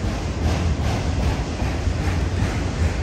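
Union Pacific auto rack freight train passing Jack London Square Station in Oakland, a steady low rumble and rushing roar of cars rolling by nearby, with wind buffeting the microphone.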